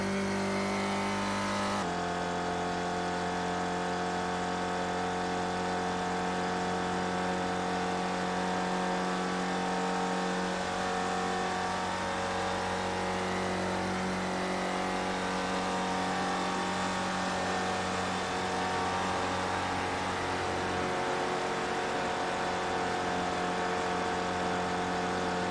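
A Spec Racer Ford race car holds wide-open throttle down a long straight on the Nürburgring Nordschleife, its engine note a steady sustained drone that drops off as the clutch is pulled in, heard from onboard with no talk.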